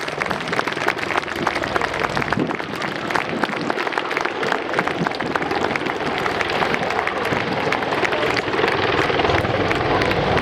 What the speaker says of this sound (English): Please put your hands together for the 2015 Attack Helicopter Display Team.